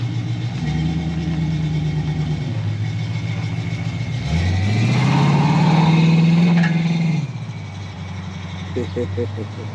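A Camaro fitted with an Aces EFI fuel-injection system idles nearby, then revs and pulls away on a test drive. The engine note rises and falls with a low, throaty drone, and voices are faintly heard around it.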